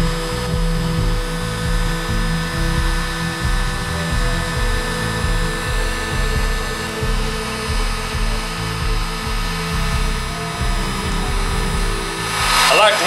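A heat gun drying paint on a 1947 Ford truck whirs loudly and continuously, a constant droning hum with a brief rise in noise near the end.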